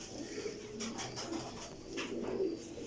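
Royal Teddy pigeons cooing softly at close range, low throaty repeated coos with faint rustling and background hum, several overlapping calls across a few seconds.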